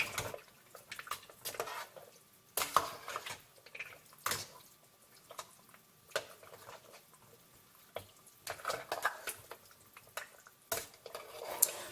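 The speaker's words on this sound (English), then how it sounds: "I'm going to stir this really gently so as not to break up the seafood." A spoon gently stirs seafood chowder in a pot, giving soft, sparse clinks and light liquid sloshes at low volume, with quiet pauses between the taps.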